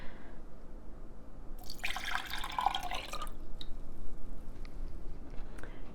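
Heated salt water for sea salt spray poured into a container with a pouring spout, a brief splashing, liquid rush in the middle over a low background hum.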